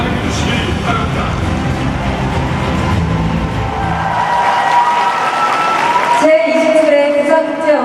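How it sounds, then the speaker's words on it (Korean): At the 27th Busan International Film Festival opening ceremony, a large audience applauds steadily for several seconds as the hosts are welcomed, then the clapping thins out and bright music tones take over. "박수 환영해주시기 바랍니다."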